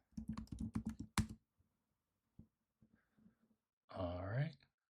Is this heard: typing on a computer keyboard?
yes